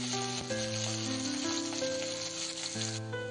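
Onion, curry leaves and coriander frying in a pan for potato fry, a steady close sizzle running the whole time with a few soft clinks of a spoon over it.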